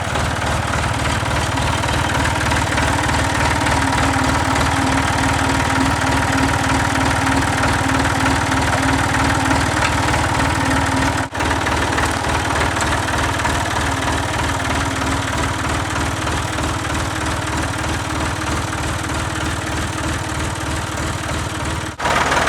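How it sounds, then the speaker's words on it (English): A tractor's engine idles steadily and loudly up close for the whole stretch, a continuous throbbing rumble with no voices. "I'm going to go back the tractor up"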